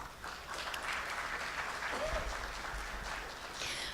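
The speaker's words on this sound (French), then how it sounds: "j'invite Monsieur Benjamin Bell, qui est le directeur général de Canal+. Sous vos applaudissements, s'il vous plaît" An audience applauding to welcome Benjamin Bell, director general of Canal+, at a business forum panel, a steady wash of clapping from a crowd with some voices mixed in.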